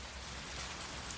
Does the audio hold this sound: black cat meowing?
no